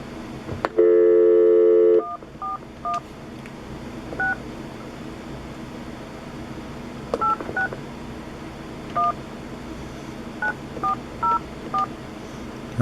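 A long steady telephone tone sounds for about a second, then a series of short DTMF keypad beeps follows in irregular clusters over a faint background hum as a number is dialed on a phone.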